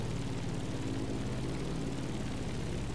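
A Chanceport F4U Corsair propeller plane in The Crew Motorfest, its piston engine droning in a steady, dense, loud roar with a throbbing low pulse, continuous throughout.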